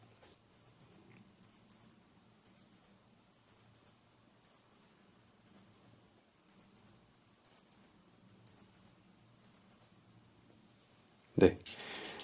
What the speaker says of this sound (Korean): 이렇게 10초간 알람이 울리게 되고요